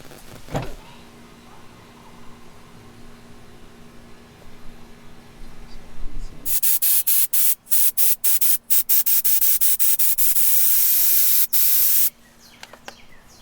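Spray gun applying leather dye to a car seat panel in a repair workshop: after a quiet stretch, a loud continuous hiss of spraying runs about six seconds, broken by short pauses, then stops.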